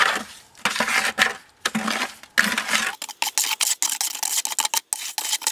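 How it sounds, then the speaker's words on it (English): A mixing spoon stirs wet concrete mix in a bucket, a run of loud, close gritty scraping and knocking strokes with short gaps between them. "grab your mixing spoon and grab your bucket, stir it around"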